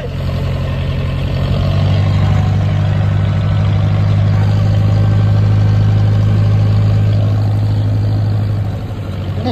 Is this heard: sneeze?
no